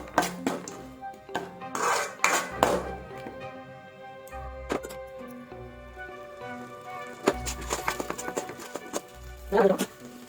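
Spoon scraping and clanking in a pan of onion, tomato and ginger-garlic masala for Tamil-style fish curry, with repeated metallic knocks and stirring scrapes close by, under a background of low kitchen noise.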